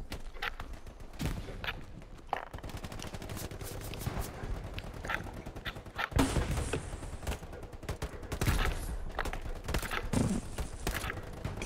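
Sustained gunfire from the Hell Let Loose World War II shooter, with dense bursts of rifle and machine-gun shots and heavy impacts during an intense firefight. Loud, rapid cracks continue throughout.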